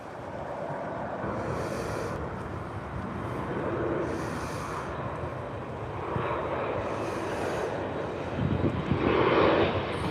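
A Southwest airliner coming in to land at Tampa International Airport during rush hour: a steady, moderately distant jet roar that swells slightly toward the end, with faint intermittent hiss above it.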